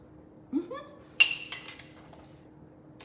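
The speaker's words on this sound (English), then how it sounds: "Sorry for making all this noise with the dishes." Dishes and glassware clink in a kitchen during salad preparation for lunch, with a loud sharp clatter followed by several lighter scattered clinks, close by, with faint voice-like sounds early on.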